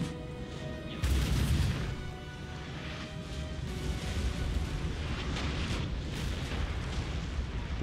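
Artillery fire against a general's unit in Napoleon: Total War, with a heavy rumbling boom and a dense roll of distant cannon and musket blasts continuing throughout, with no talking.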